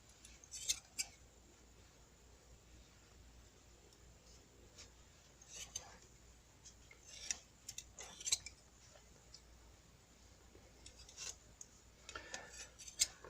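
Scissors cut handmade bag handle material in half, with faint, sparse snips and light rubbing against a quiet background.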